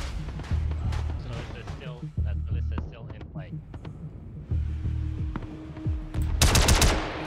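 Rapid bursts of gunfire in the space combat game Star Citizen, with several short volleys and sharp shots, mixed with game sounds and players talking over the action.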